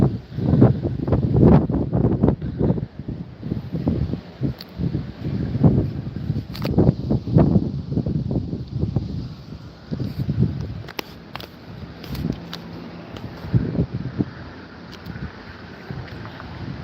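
Wind gusts outdoors near a fast-growing 100-acre wildfire by a mountain, buffeting the microphone in uneven low rumbling bursts that rise and fall for the whole stretch.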